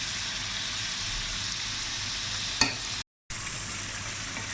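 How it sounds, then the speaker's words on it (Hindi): Spice masala of turmeric, black pepper, salt and ground coriander frying in a pan for dhaba-style daal mash, a steady hissing sizzle with one sharp stirring scrape and a brief cut to silence near the end. "ये देखिए मसाला जो है वो बहुत अच्छे से भुन रहा है"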